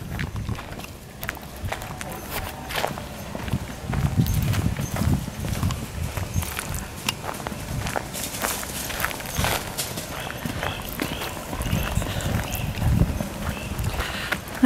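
Horses walking out to open pasture, hooves clip-clopping in an uneven rhythm at moderate distance, with outdoor background noise and occasional talk over them.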